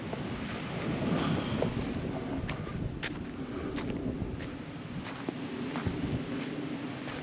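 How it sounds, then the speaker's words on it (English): Wind and lapping waves on the shore of Benbrook Lake in Texas during a drought, a steady, fairly loud rumble with gusty microphone buffeting and no voices. "Nothing but the sound of the wind, the waves, and airplanes."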